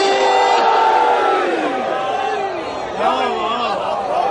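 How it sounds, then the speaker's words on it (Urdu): A large crowd at a Shia religious gathering in Mailsi roars the slogan Nara-e-Haidari with raised arms, a loud, massed chorus of voices swelling and falling together in unison. "دونوں بازو بلند کر کے آسمان تک پہنچانے کے لیے سے مل کے نعرے حیدری"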